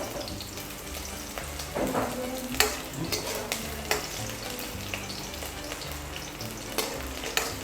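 Sliced onions sizzle steadily in hot oil while being stirred for a drumstick-leaf dal, with scraping spoon strokes and clinks recurring through the steady frying hiss.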